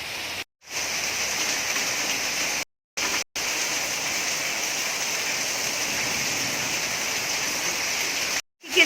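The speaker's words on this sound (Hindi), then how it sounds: "कड़ाके की बारिश आ रही, बिजली कड़क रही है।" Heavy monsoon rain pours steadily in a loud, even hiss of water, broken by a few sudden silent gaps, with no voices over it.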